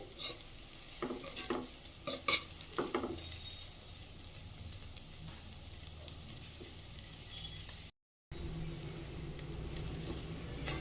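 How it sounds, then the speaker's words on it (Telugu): Onions fry in a pan toward deep brown while being stirred, making a close, continuous sizzle with scraping stirs and spatula knocks clustered early, then a short dropout before the frying hiss resumes. "బాగా బ్రౌన్ కలర్ వచ్చే వరకు ఫ్రై చేసుకోవాలి"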